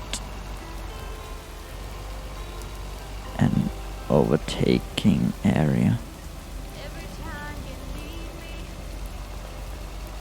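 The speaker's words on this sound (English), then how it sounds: "I love rainy days." Steady rain falls during a drive on a rainy day, a constant even hiss running through the whole stretch while a person talks briefly in the middle.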